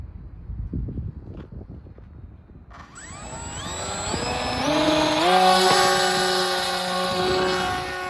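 A small remote-control model plane on a beginner's first flight starts from quiet, then its motor whines up in a rising, sustained buzz under light wind rush, wavering in pitch as it flies.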